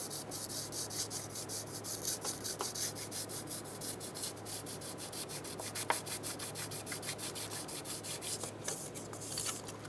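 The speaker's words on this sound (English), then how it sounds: "Using a very fine piece of sandpaper wrapped around a block of wood, go ahead and go down and clean the mating surface." Fine sandpaper wrapped on a wood block rubbing the valve cover mating surface of a 2007-2012 Nissan Altima engine, quiet rhythmic back-and-forth scratching strokes, close and faint, with no talk.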